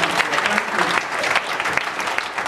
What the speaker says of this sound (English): Can we clap for Jesus?